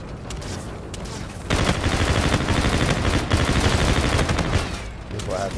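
Shotgun fire from an online shooter video game bursts out in loud, rapid volleys that run densely for several seconds after a brief quieter opening, crowding the soundscape.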